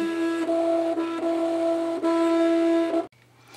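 Cricut cutting machine slicing heat transfer vinyl, a close, steady motor whine in sustained tonal runs broken by short pauses and pitch shifts, then stopping abruptly.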